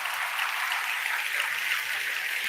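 An audience at a Christian sermon claps steadily throughout, a dense, even wash of applause at moderate volume.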